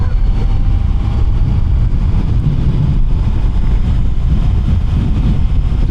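A Honda CBR 650 E-Clutch motorcycle on the move, with a loud, steady engine drone buried under heavy wind rush and no clearly separate gear-shift moments.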